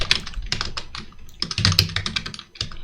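A name being typed on a computer keyboard into a login form field, a steady run of close, crisp key clicks with uneven spacing and a brief lull near the end, no talking.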